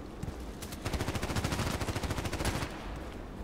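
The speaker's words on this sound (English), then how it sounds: "let's shoot from the house" Rapid automatic gunfire in the online shooter Contract Wars, a sustained burst of evenly spaced shots at moderate distance, fairly quiet and with no talk, tapering off after about two seconds.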